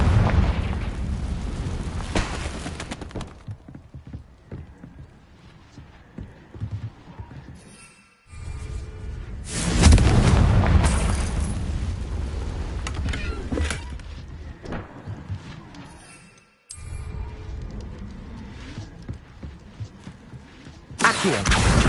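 Confringo blasting spells exploding in Hogwarts Legacy, with several loud booming bursts separated by brief silences, each followed by rumbling debris and crackle, heavy and close.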